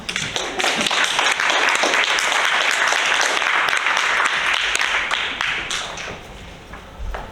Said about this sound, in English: if you welcome them with applause